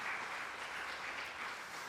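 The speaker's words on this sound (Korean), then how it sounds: "그 섬김에 우리 감사의 박수로 한번 축복했으면 좋겠습니다." Congregation applause during a Sunday church service, a brief soft wash of steady clapping heard from a distance, with no talking over it.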